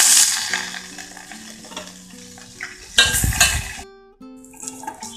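Green chillies and peanuts fry in a pan with turmeric and curry leaves, a steady sizzle broken by repeated stirring clinks and scrapes, close and fairly loud, ending in a few sharp metal knocks.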